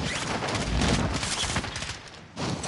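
Rapid gunfire in Modern Warfare, a dense burst of overlapping shots that rattles on continuously, loud and close, with a brief dip near the end before resuming.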